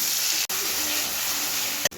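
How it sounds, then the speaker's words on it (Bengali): Chopped onions fry in a pan with a steady hiss and sizzle, broken by two brief dropouts, while a voice speaks faintly. "এবার আমি এর মধ্যে পেঁয়াজ কুচিগুলো দিয়ে দেবো। দিয়ে এটা ভেজে নেবো পেঁয়াজটা হালকা করে।"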